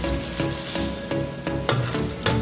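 Onion and green chili hit hot oil in a pan and sizzle steadily, with soft, regular scrapes and clinks of a stirring spoon, close and fairly quiet.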